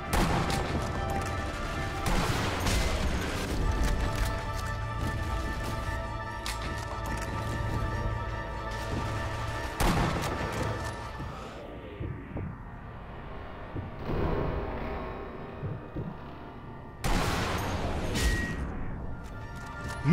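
Sniper rifle shots in the Sniper Elite V2 game demo: a few sharp, loud reports spaced several seconds apart over a low humming game soundscape, with a final shot near the end.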